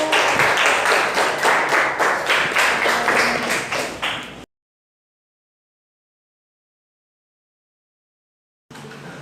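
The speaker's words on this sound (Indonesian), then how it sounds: "Tepuk tangan untuk kelompok 1" A classroom group claps for the first presenting group during a teaching practice lesson, with rhythmic, fairly close claps for about four seconds, then a silent gap before the sound returns.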